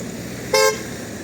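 A single short car horn toot rings out close by over a low hum of street traffic during a busy, near-holiday day in Truskavets.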